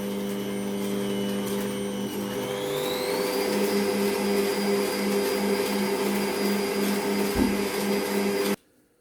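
An electric mixer beats an egg mixture for tiramisu, a steady loud motor whine that rises in pitch after a couple of seconds and holds until it cuts off abruptly near the end, with no talking.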